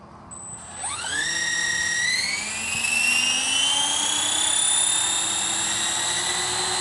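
A CCPM RC helicopter spools up and lifts off with a high, rising electric whine that climbs in pitch and then holds as a steady loud buzz, near and continuous, with no speech.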